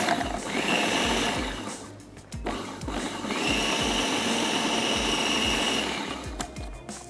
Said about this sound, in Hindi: इसके बाद हमने इसको चॉपर को चलाना है